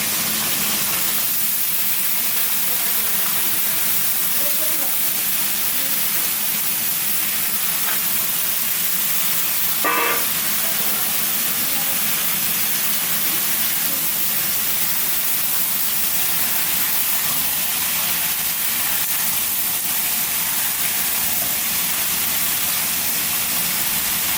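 Chopped potatoes and fried prawns hit a hot pan of oil and sizzle, a steady loud hiss and spatter running continuously for many seconds with a few faint clinks.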